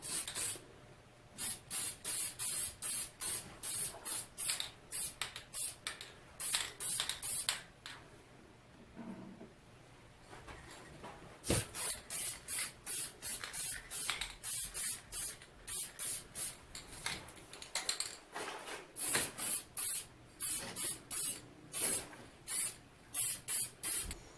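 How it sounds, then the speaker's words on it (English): Short bursts of 60 sheen lacquer spray onto 3D-printed knobs for a 1934 Grunow 501 tube radio, close rhythmic hissing pulses with a brief pause midway, no voices. "let's shoot some of this 60 sheen on the top now."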